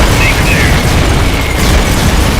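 Continuous low rumbling booms of supporting artillery fire in Metal Gear Solid: Peace Walker, loud and sustained with a dense roar throughout.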